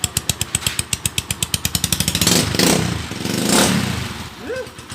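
An uncle's motorcycle engine idles near the mic with a steady, rapid exhaust putter, then revs up into two broad surging roars before dropping back, with a brief vocal sound near the end.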